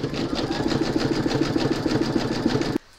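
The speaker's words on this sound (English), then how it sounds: "pop your hoop into your machine and stitch color number 6, and that's going to zigzag and join these two panels" An embroidery machine sews a zigzag stitch joining two fabric panels in the hoop, a steady rapid mechanical whir with a regular pulsing rhythm, close and loud, stopping abruptly near the end.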